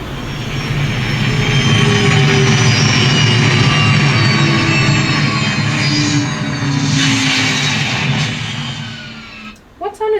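Spaceship landing sound effect: a loud, steady, roaring rumble with whining tones sweeps on for about nine seconds before fading, followed by a few abrupt thumps at the end.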